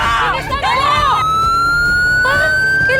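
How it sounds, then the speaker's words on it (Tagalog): An ambulance siren wails loud and close in a rising and falling sweep, then settles into a long steady tone before sweeping again, with a voice briefly over it. "Ano yun? Ambulansya ba yun?"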